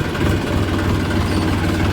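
A tractor engine idles steadily and close by with a deep, even rumble, holding constant without pauses, and no voices over it.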